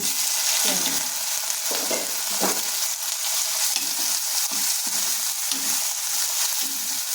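Green chillies sizzle in hot oil in a pan for a vegetable dish, a steady bright crackle running throughout with soft stirring knocks recurring at irregular intervals, close and moderately loud, no voices.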